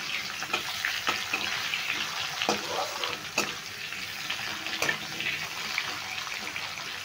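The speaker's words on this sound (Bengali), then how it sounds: "এবার ফোড়নে আমি পেঁপেটা দিয়ে দিয়েছি, পেঁপেটা একটু নেড়ে চেড়ে হালকা করে ভেজে নিচ্ছি।" Chunks of papaya stirred and lightly fried in tempered oil in a pan, a soft steady sizzle with occasional scraping clicks from the stirring spoon, fairly quiet and close.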